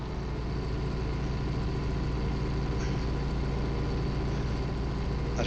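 A tractor idles in Farming Simulator 19, a steady, low, even engine rumble held for several seconds with no talk.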